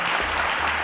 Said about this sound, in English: All right, round of applause to Adegoke,